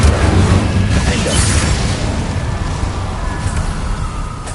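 Confringo and Incendio fire spells burst in Hogwarts Legacy combat, a loud steady low rumble of blasts and crackle with no clear separate hits.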